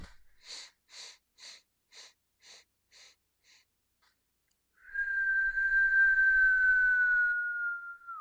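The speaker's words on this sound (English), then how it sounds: "exhale through a puckered lip, right? Puckered lips with a whistle." A run of seven short breathy puffs, fading one after another, then a pause and a long, steady whistle blown out through pursed lips.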